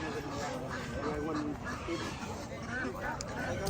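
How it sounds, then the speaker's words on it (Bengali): Ducks brought for sale at an outdoor livestock and farmers market in Mulvane, Kansas quack amid a dense hubbub of crowd chatter, with the bird calls mixed into the steady babble. "যেখানে হাঁস নিয়ে আসছে, হাঁস বিক্রি করার জন্য প্রচুর হাঁস আছে।"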